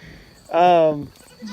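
A Nigerian Dwarf goat on a farm gives one loud, drawn-out bleat of about half a second, with quieter farmyard sounds and a brief murmur of voices around it.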